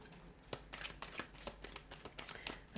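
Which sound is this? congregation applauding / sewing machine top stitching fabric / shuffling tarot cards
shuffling tarot cards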